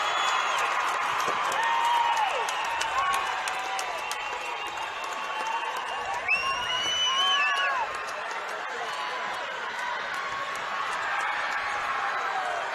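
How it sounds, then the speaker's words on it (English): A crowd cheers and whoops as fans storm the court after a 2A boys basketball state championship between Enterprise and San Juan, a loud continuous roar of voices with shrill whistles and shouts rising through it. "Now the crowd storms the court to celebrate with the Broncos team."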